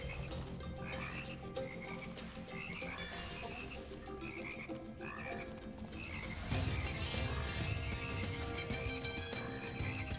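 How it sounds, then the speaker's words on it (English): Frogs croak repeatedly in the Immortal Redneck first-person shooter game, a rhythmic chorus of calls over steady game ambience and music that grows louder and busier toward the end. "I think that's just where all the frogs spawn."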